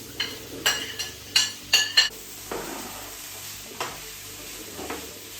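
Onion frying in a pan, with a soft continuous sizzle beneath several sharp metallic clinks and scrapes of a utensil stirring against the pan, close and fairly loud.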